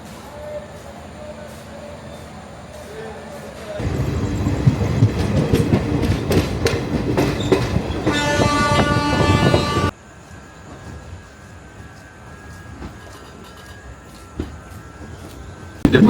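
A passenger train running from Kolkata to Deoghar rumbles along with a rhythmic clickety-clack that swells loud for several seconds, then drops to a quieter, muffled rolling hum.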